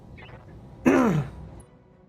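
An online gamer coughs and clears his throat once, close to the microphone, in a short harsh burst with no talk over it.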